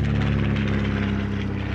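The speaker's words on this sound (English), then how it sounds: "Development of the Hawk family of two-seat training, sporting and racing aircraft by the Miles Aircraft Company." A Miles Hawk two-seat propeller aircraft flies past at the Shuttleworth Race Day air show, its engine a loud, steady, close drone with a strong constant tone throughout.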